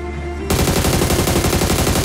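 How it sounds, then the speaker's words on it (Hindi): Rapid automatic gunfire in the battle royale video game BGMI (PUBG) starts abruptly after a quiet moment and continues loud and steady for the rest of the clip. "मैंने फायर करने का ट्राई तो किया"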